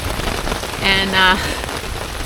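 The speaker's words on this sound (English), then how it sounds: "I'm just sitting under my tarp trying to wait out the worst of the rain" Rain drumming on a tarp at a campsite along the Appalachian Trail in Maine, a steady close patter throughout, briefly joined by a short spoken word.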